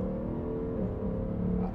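800-horsepower 2017 Acura NSX pulling hard from third gear in track mode: a steady, loud engine drone with a rising tonal whine that shifts pitch partway through, heard from inside the car with no voices.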